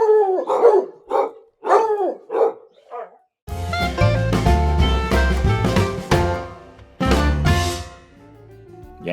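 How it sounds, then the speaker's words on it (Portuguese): A pet dog named Pudim barks in short, repeated bursts with some howling tones, heard nearby in a room alongside music. "No fundo, sempre vocês vão ouvir aqui a Pudim latindo"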